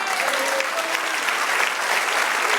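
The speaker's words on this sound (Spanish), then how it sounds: "Den un aplauso al Señor." A church congregation applauds during a Spanish-language sermon, dense continuous clapping that stays loud and even throughout, without a break.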